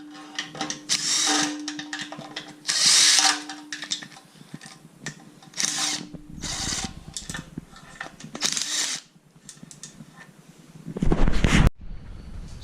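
A power tool works off oil pan bolts on a Honda K24 engine, with repeated buzzing, whirring bursts in irregular spurts and metallic rattles between them, close and loud.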